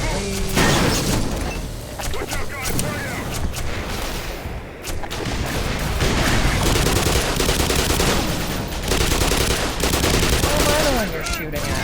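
Heavy gunfire rattles through the Black Mesa video game, with dense bursts of automatic fire and booming shots in near-constant volleys, a brief lull in the middle, and a voice speaking under the noise.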